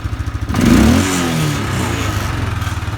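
A Kawasaki Bayou 400 ATV engine idles in neutral, then revs up sharply and settles back to a steady, throbbing idle, close and loud, with a slight rattle from the rear rack.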